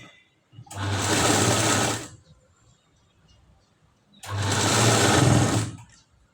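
A sewing machine stitching the cross belt of a katori blouse in two steady bursts of whirring about a second and a half each, close and clear, separated by a quiet pause.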